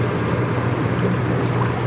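A boat being launched into the Willamette River, heard as a steady wash of water and low hull rumble that stays close and continuous with no voices.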